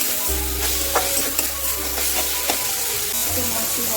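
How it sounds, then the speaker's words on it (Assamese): Spices sizzling in hot oil while being stirred in a pan for a jackfruit dish, steady close frying hiss with scraping stir strokes throughout. "অকণমান ভাজি লওঁ এইখিনি।"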